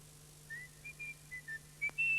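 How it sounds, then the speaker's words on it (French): Someone whistles a short tune behind a closed door, several soft muffled notes followed by a louder, sharper whistle over a steady low hum. "quand il entendit siffler derrière une porte fermée"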